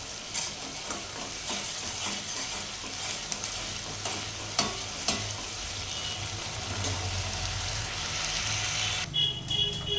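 Ginger, garlic and onions frying in a steel pan, a continuous sizzle broken by repeated scraping and clicking stirs of a spoon against the metal, fairly close and steady throughout.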